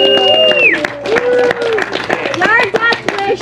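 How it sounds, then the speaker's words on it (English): Clapping and crowd cheers from the audience at a Wild West show in Tombstone, Arizona, fill the whole stretch, with voices and whoops rising over the applause. "Give him a round of applause."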